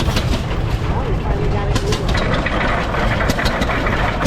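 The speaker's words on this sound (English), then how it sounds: "So he got this one running by spinning the flywheel, kind of like cranking it, and off he goes." An old hit-and-miss style engine at a steam engine show runs steadily after being started by spinning its flywheel, a continuous loud rumbling chug with periodic sharp bursts throughout.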